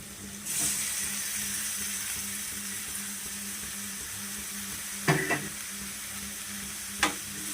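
Parboiled cauliflower florets tipped into a hot frying pan and stirred, with a steady oily sizzle throughout, close up, and a few sharp scraping clinks of the spoon against the pan near the end.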